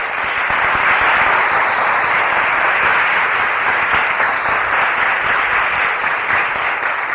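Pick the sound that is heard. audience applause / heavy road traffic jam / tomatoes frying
audience applause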